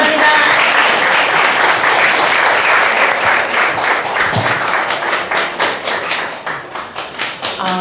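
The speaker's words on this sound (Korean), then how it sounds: "박수." Audience applause at an art fair talk show, a dense roar of clapping that stays loud and steady, then thins toward the end into separate, distinct claps.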